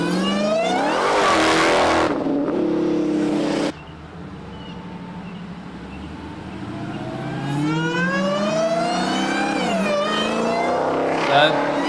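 A supercharged Dodge Demon engine revs loud and close, a rising supercharger whine that cuts off abruptly, then a quieter idle before climbing again into another high-pitched rev.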